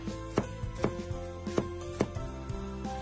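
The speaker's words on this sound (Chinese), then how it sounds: "再用刀切成葱丝" A knife chops green onion into fine shreds on a board, a steady series of sharp close taps at an irregular but brisk rhythm, with no talking.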